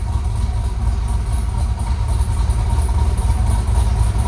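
A cammed GMC Sierra with a 6.2L V8, headers and Valvetronic Designs exhaust idles with its exhaust valves open, giving a loud, steady, lumpy rumble up close that holds without revving.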